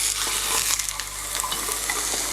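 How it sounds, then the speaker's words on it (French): Chicken searing in a covered frying pan over medium heat, a steady sizzle and frying hiss running continuously at moderate level with small crackles, no talking. "Ça commence déjà à saisir."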